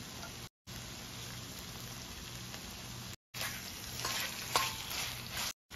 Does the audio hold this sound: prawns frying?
yes